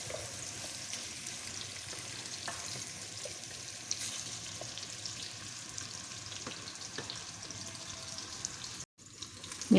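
Onions frying and browning in a pan for an arvi gosht curry, a steady crackling sizzle with occasional stirring scrapes throughout, fairly close, with no talk.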